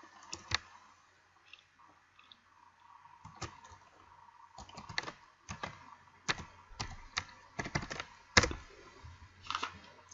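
Typing an email address and password on a computer keyboard at a login screen: irregular bursts of close, crisp key clicks with short pauses between groups and no talking.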